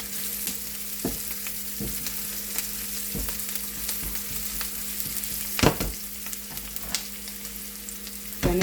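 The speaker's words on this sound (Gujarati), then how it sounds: "તેને બ્રાઉન કલરની થવા દઈએ આપણે। તેને હલાવતા રહીશું।" Chopped onion and tomato frying in a pan while being stirred to brown, with a steady close sizzle and occasional scraping knocks of the spoon, no talking.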